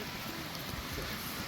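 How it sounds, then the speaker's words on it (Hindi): Steady rain falls outside near a hotel footpath to a cancer clinic in Dharamshala, a continuous broadband hiss of drops on surfaces at moderate level with no pauses. "बारिश यहाँ रुक ही नहीं रही है।"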